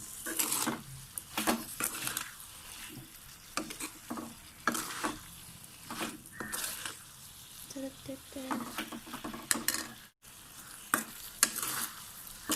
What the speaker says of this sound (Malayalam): അപ്പോൾ ഉടയാതെ ഇളക്കിയെടുക്കാം